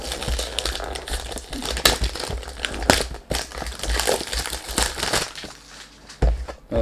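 Perfume box packaging for a 2023 men's fragrance crinkles and crackles close up as it is unboxed, a run of sharp rustling bursts with brief pauses, no talking.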